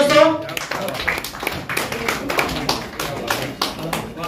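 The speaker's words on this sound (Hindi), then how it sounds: "एक भरपूर ताली दोस्तों" Audience clapping at a book launch for a third poetry collection in a hall, a dense ragged patter of many hands, moderately loud and steady, mixed with background murmur and talk.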